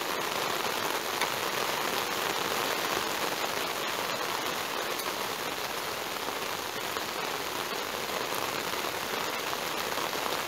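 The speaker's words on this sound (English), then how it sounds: "Told you it was going to rain, didn't I?" Heavy rain pours steadily at an outdoor bottle-digging site, a dense, continuous hiss of drops drumming on surfaces, loud and unbroken throughout with no voices.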